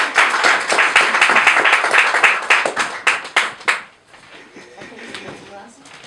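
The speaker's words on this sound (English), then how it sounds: "Give yourself a round of applause." Audience at a Harlem community talk claps loudly for several seconds, clear individual hand claps that thin out and stop, followed by quieter room sound and faint voices.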